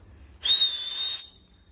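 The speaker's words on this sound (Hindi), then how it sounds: "बोलो, सीटी मार दो, सीटी" A small yellow pet parrot gives a single clear rising whistle held for under a second, close by in a quiet room, with no talking over it.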